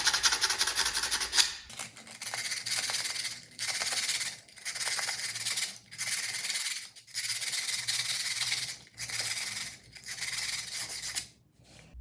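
Glass edges sanded by hand without a machine, a rough rasping scrape repeated in steady strokes with short pauses between, close and fairly loud.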